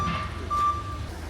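A truck's back-up alarm sounds about two steady, high electronic beeps over a low engine rumble, close by and briefly heard.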